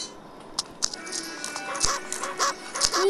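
Dog barks and yips come from a mobile horror game, Endless Nightmare, as short sharp bursts over a faint electronic background hum, fairly close and steady across a few seconds.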